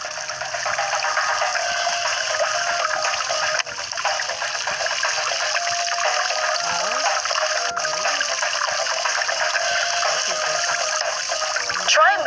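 Water splashes and trickles steadily from a garden hose into a dog's water bowl, a continuous close gushing sound with slight shifts as the stream moves.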